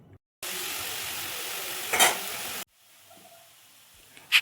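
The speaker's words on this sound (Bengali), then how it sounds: "এই যে শাকটা দিয়ে দিলাম কড়াইয়ের মধ্যে, আর এর মধ্যে এখন পরিমাণ মতন লবণ আর হলুদ দিয়ে ভালো করে মেখে নেব" Chopped leafy greens frying in a wok with salt and turmeric, a loud steady sizzle with a brief stirring scrape in the middle, then cutting off to quiet hiss and a small clatter at the end.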